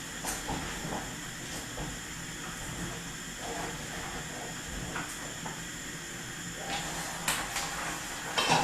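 Water boils in a pot on the stove with a steady, hissing rush, broken by a few light clatters and knocks near the end.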